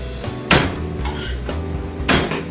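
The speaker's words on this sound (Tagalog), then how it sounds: "mag-chop muna ako ng bawang" Knife chopping garlic on a cutting board in a home kitchen, a few sharp knocks at an uneven rhythm over a busy background hum, close and moderately loud.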